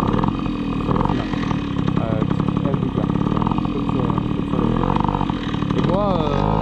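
Tomos moped engine idling with a little throttle held on during a road trip, its exhaust clamp loose, a close uneven putter running throughout under steady French talk.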